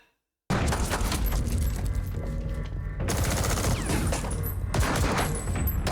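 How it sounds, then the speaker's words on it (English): Dense, sustained bursts of automatic gunfire at a drug lab in Better Call Saul, loud and close, rattling almost continuously for several seconds with brief shifts in intensity. "All this gunfire and the police don't even come"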